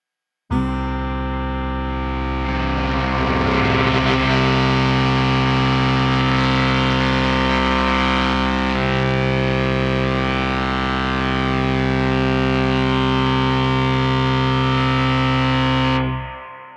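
A MOTOR Synth MKII, a synthesizer voiced by DC motors, sustains a loud, buzzy, harmonically dense tone with cross-modulation and pulse width modulation, its timbre shifting and sweeping for about fifteen seconds before cutting off.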